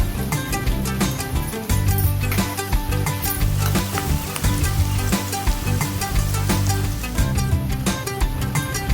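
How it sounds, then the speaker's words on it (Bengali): Food fries in a pan with salt in a dense, loud, continuous sizzle that stays steady close up, and a few sharp crackles and pops run through it, with no talking. "ও 1 টেবিল চামচ নুন দিয়ে ভালো করে ভেজে নেব।"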